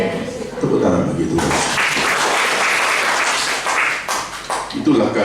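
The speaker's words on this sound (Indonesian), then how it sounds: "Tepuk tangan begitu." A church congregation applauds in a steady burst of clapping lasting several seconds, loud and close, with a voice speaking over the start and end.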